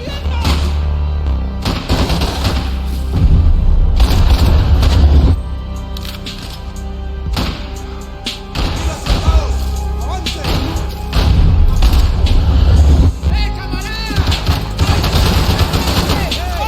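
Rapid gunfire from the video game Max Payne 3, with dense repeated shots and heavy thuds in loud bursts over a busy game soundtrack, with voices speaking at times.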